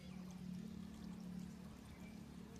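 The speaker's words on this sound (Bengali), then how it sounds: "এখান দিয়ে জল পড়ার আওয়াজ হচ্ছে" Water falling somewhere nearby makes a faint, steady pouring rush with a low hum beneath it, continuous and without voices.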